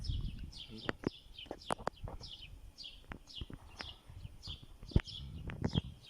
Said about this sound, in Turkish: Kuş sesleri geliyor.